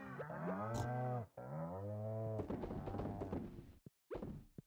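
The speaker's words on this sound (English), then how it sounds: "the favorite part of my morning is listening to all the animals in Stardew" Cows moo on a farm in the video game Stardew Valley, two long, loud, close lows in a row followed by shorter calls and a few soft knocks, with no talk.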